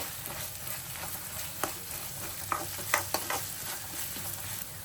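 Ginger garlic paste frying with browned onions in a pan for chicken curry, a soft steady sizzle broken by a few sharp clicks and spoon knocks, fairly quiet and close.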